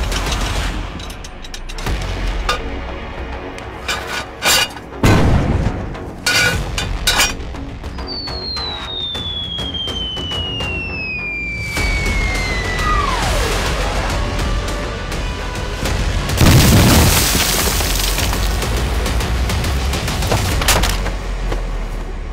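Artillery shelling and gunfire in a war-movie battle at an enemy artillery base: sustained bursts of shots and booms, a whistling incoming shell, then a heavy explosion with rumbling aftermath, continuous and loud throughout.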